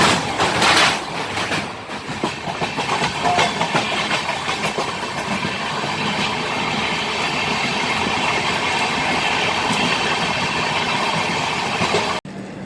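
A train runs along the tracks with a steady, loud rumble and rhythmic clatter of wheels, close and continuous until an abrupt stop at the end.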